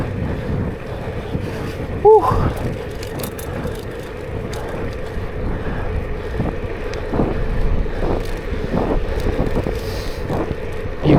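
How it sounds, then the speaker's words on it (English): Strong headwind roars steadily across the microphone of a cyclist riding into it, a continuous blustery rush with a brief exhaled breath early on. "Wow, it's so windy. I'm like really riding against the wind here."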